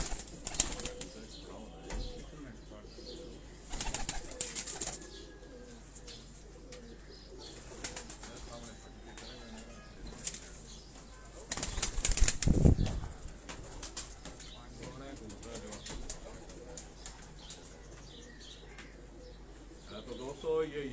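Misse pigeons at a home loft coo softly and flap their wings in short bursts, one loud flurry of wingbeats standing out mid-way, with quiet background noise throughout.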